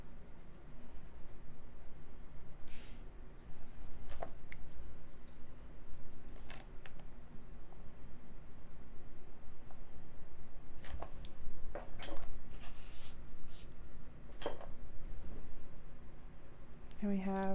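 Coloured pencil scratching on paper, soft continuous strokes close to the microphone with occasional light taps, while a person talks quietly over it.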